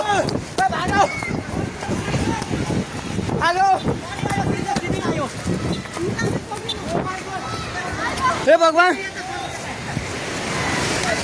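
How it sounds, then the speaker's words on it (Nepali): Floodwater in Nepal roars continuously over rocks outdoors, a heavy wind-buffeted rush, while people shout and talk over it. "पानी ढुङ्गामा उलिसकेको छ"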